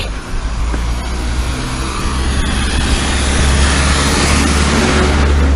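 A car drives along a country lane through a village, its engine a steady, fairly loud rumble that swells slightly toward the end, with no voices.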